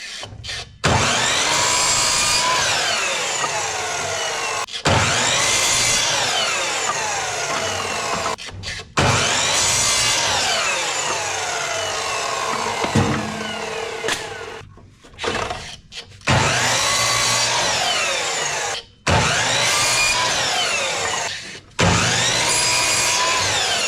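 Power tool cutting pieces of pallet wood, loud and close, in several long sustained cuts of a few seconds each separated by short pauses, with the pitch sweeping as the blade loads and frees.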